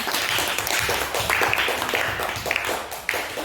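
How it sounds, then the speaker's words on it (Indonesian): A classroom of students claps together in a brisk, steady burst, close and fairly loud, lasting a few seconds without speech. "Ya, benar, tepuk tangan."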